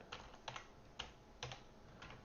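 Keys typed on a computer keyboard while coding, a handful of faint, irregular clicks with brief pauses between them and no voices.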